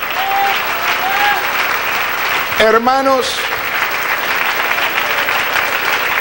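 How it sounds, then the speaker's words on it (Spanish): A church congregation claps enthusiastically during a sermon, with the applause swelling loudly for several seconds while a preacher's voice calls out over it. "Dale un aplauso al Señor."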